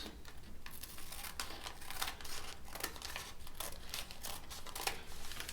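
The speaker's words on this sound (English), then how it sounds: "it's actually easy with scissors, just cut around" Repeated crisp snips and crinkly paper rustling, scissors cutting around the bottom of a paper bag at close range, with no voices.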